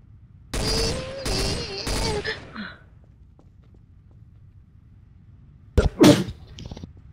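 Two loud, close sneezes a few seconds apart during a Trouble in Terrorist Town game session, each a sharp voiced burst, with quiet gaps around them.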